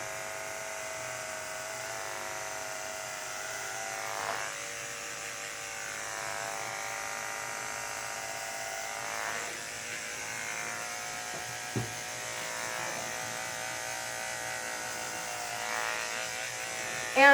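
An electric shaver or trimmer buzzes steadily and close for the whole stretch, its motor tone wavering slightly as it moves over the face, with a few faint bumps and no talking.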